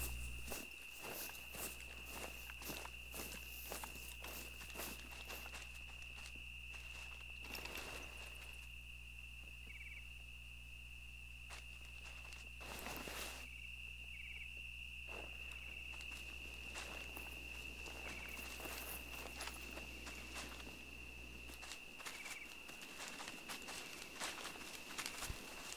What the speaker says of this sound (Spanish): Ya escucho muchas pisadas, me están confundiendo.